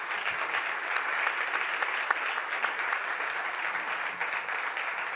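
A large audience at a startup awards ceremony keeps up dense, steady applause welcoming a chief minister, a continuous wash of many hands clapping with no voices standing out.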